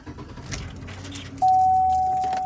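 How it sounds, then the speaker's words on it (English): A car being started, with a brief crank and engine catch, followed by a loud steady tone that sounds like a warning chime or beep, close by. "So I'm going to turn on my car."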